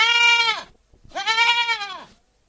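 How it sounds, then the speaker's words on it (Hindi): Two loud, close bleats from goats or sheep, each lasting over half a second with a wavering, nasal tone, separated by a short pause, with no other sounds around them. "छेड़ियां और बकरे की तुम आवाज सुनी सकते हो क्या?"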